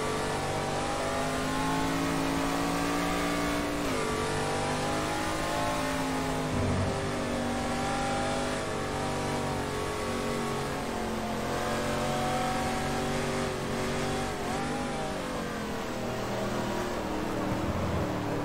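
Ford GT40 racing car engine at Dijon-Prenois in GT Legends, a loud continuous roar that climbs and drops through repeated gear changes, close and dominant throughout.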